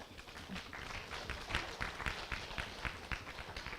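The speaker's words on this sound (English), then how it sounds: "So please, just clap him for me now." An audience claps for a minister at a castor bean forum, a brief patter of scattered hand claps of moderate loudness heard at a distance.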